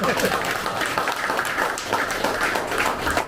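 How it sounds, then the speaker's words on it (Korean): Applause breaks out from the audience at a Busan district chiefs' association inauguration ceremony, a dense steady patter of many hands close by, with voices and some laughter mixed in throughout. "이 대목에 진짜 박수 한번 치자."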